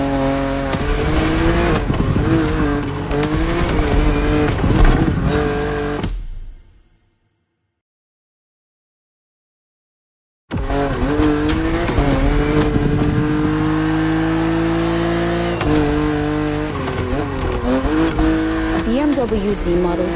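A BMW Z roadster races in The Crew Motorfest on PS5, its engine revving loudly and steadily with rising and falling pitch, broken by a few seconds of complete silence before the roar resumes.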